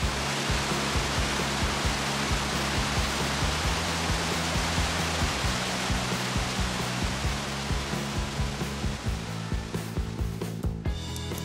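Upper Mesa Falls in the eastern Idaho Tetons region, a 114-foot-tall, 201-foot-wide waterfall, roars as a dense, steady broadband rush that stays loud and unbroken throughout.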